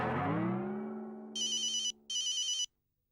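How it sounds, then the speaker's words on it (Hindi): A telephone rings unanswered, two bright electronic trilling bursts, close and clear, following a fading low tone. "अरे मेहते फोन उठा ले, वरना आज तू नौकरी से हाथ धो बैठेगा।"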